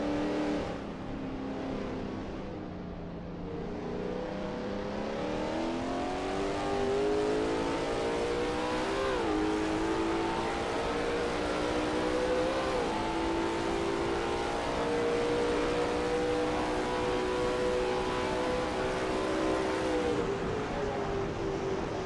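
Lola T70 MkII Spyder race car in a racing video game at Riverside, engine droning loud and steady with rising and falling revs through gear changes and a corner, alone without talk.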